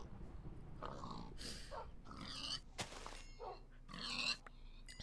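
Pigs in the video game Minecraft give a string of short grunting oinks, about six separate bursts spread over several seconds at moderate volume, with no speech over them.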